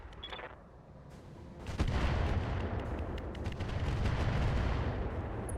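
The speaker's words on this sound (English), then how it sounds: "Okay, pretty mediocre on the artillery shots." Artillery fire in the RogueTech BattleTech mod: a dense barrage of booming impacts swells after a quieter opening, sustained heavy rumbling blasts layered together with no talk.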